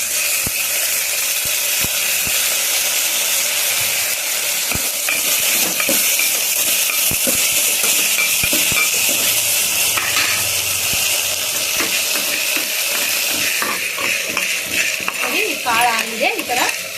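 Seeds spluttering and popping in hot oil while tempering an okra (bendekai) sambar, a steady close-up sizzle scattered with sharp little crackles and pops that runs the whole time with no talking.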